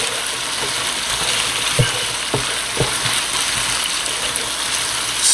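Mushrooms, onions and beef with flour frying in a pan, a constant sizzle broken by a few soft knocks and scrapes of stirring.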